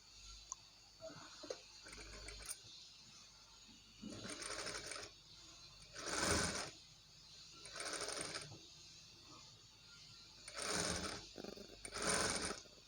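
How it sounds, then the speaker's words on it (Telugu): Sewing machine stitching a blouse neck, several bursts of whirring running stitches separated by short pauses, fairly close and alone. "మళ్ళీ ఈ లాస్ట్ నుండి దీన్ని ఇలా కుట్టుకుంటూ వచ్చేస్తున్నాను"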